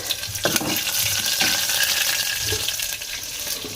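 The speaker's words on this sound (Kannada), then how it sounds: "ನಾನು ಈಗ ಸಾರು ಒಗ್ಗರಣೆ ಕೊಡೋದು" Spices fry in hot oil as a tempering for sambar, giving a steady close sizzle with scraping stir strokes throughout.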